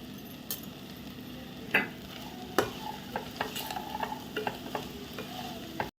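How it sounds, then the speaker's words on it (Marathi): Quiet scraping and clinking of a spoon stirring fresh coconut and chopped coriander in a pot, with a few sharper knocks against the side over a faint sizzle. "आता हे सगळं छान ढवळून झालेलं आहे"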